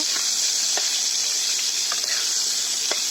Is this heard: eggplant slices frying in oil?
yes